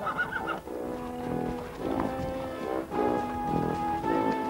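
A Palomino horse whinnies and neighs repeatedly, loud and close, with a steady wavering pitch, while cattle are being driven.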